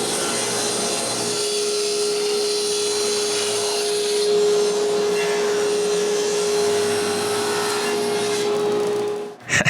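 A power saw rips solid pine panels to size for a pantry, making a steady, loud, whining cut with a constant tone that ends abruptly with a clunk at the finish.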